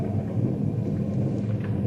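Steady thunderstorm effect from an old radio drama, a continuous low rumbling roar of thunder with a hiss of rain throughout, loud and even with no voices.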